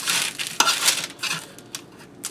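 Roasted potatoes being pushed across a metal sheet pan, giving scraping, clattering bursts of metal on metal with a few sharper knocks, close and fairly loud.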